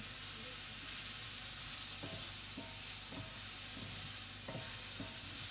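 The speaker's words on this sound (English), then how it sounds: "So I'm getting these mushrooms sauteed. I don't want them overcooked. I'm going to keep moving them around." Mushrooms sauté in a pan for an Asian beef and vegetable dish, a constant bright sizzle broken by several soft scraping knocks as they are stirred.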